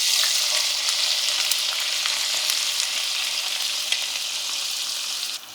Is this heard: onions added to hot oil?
yes